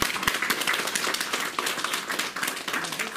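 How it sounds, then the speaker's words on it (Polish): Audience applause fills a hall at the close of a poetry evening devoted to Władysław Broniewski, a dense, steady clapping from many hands held at an even level throughout. "Serdecznie państwu dziękujemy za brawa"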